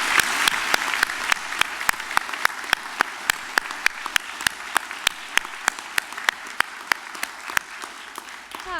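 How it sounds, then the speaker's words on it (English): Audience applause at a spring university convocation ceremony, steady dense clapping with sharp individual claps standing out across the whole stretch, moderately loud and continuous with no talking. "Join me again in a round of applause for Dr."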